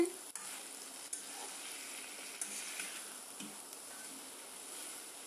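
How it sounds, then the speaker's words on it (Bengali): Taro stems turned and fried in a karahi give off a soft, steady sizzle with occasional scraping clicks of stirring, fairly quiet and close, with no talk over it. "খুব সুন্দর করে লতাগুলিকে একটু উল্টিয়ে পাল্টিয়ে দিয়ে দিচ্ছি"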